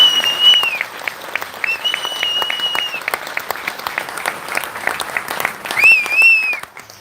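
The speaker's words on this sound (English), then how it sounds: "you gotta give them a big round of applause" An audience at a Missouri City State of the City address breaks into sustained applause, dense clapping with a few cheers and whistles rising above it near the start and end.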